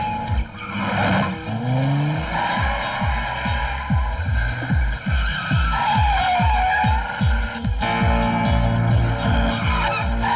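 A car in a dubbed Tamil romantic comedy film drives fast with its tires skidding: a loud, steady, throbbing engine with repeated tire squeals, up close and without speech.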